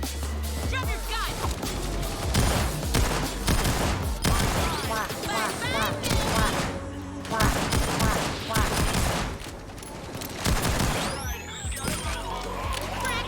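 Dense gunfire fills a Payday 2 heist fight, with rapid overlapping shots and bursts crackling almost without pause. It is loud and close throughout, and game voices and effects are mixed in.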